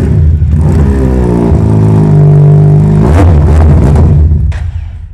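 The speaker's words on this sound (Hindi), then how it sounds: "बल्कि इसकी बाइक की साउंड भी आपको चेक करवाते हैं, ड्यूअल सिलेंडर होने की वजह से बड़ी अच्छी साउंड है" A 350cc dual-cylinder motorcycle fitted with an aftermarket exhaust revs loudly and close up, holding a steady throaty drone, then climbing sharply around the three-second mark before dropping off as it fades near the end.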